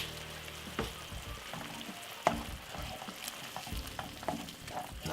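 Unsalted butter melts into cornmeal in a heated pot, giving a faint continuous sizzle broken by scattered soft scrapes and taps of stirring.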